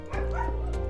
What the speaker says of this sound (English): Oh my gosh, little dog.